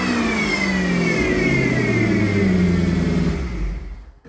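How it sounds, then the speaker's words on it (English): A supercharged sleeper car engine revs up loudly in an enclosed space, with a high supercharger whine rising in pitch alongside the engine note, then the sound falls away. "See if we can get that supercharger whine."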